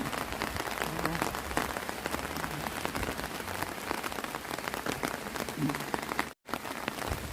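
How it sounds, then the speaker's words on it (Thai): Rain patters steadily onto a Thai vegetable garden in Hungary, a dense, close hiss of drops striking leaves and soil that briefly cuts out near the end. "ไอ้ช่วงนี้ฝนตกนะเขาจะสดชื่น"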